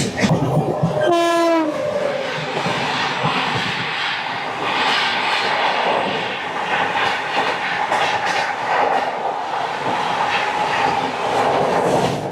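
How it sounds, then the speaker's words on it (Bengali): The NJP-Howrah Shatabdi Express passes a moving train entering Bhedia station, opening with a loud, brief horn blast followed by a steady close rumble and rhythmic clatter of wheels and carriages. "আমাদের ট্রেন ঢুকছে ভেদিয়া স্টেশন আর ওদিক থেকে আসছে ট্রেন নাম্বার একশো কুড়ি বিয়াল্লিশ এনজিপি হাওড়া শতাব্দী এক্সপ্রেস"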